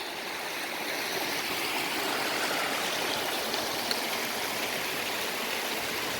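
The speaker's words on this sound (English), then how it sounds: "That waterfall as well, man, brilliant." A steady rushing waterfall near Grisdale Tarn in the English Lake District, constant broadband roar of falling water with no voices, even and unbroken throughout.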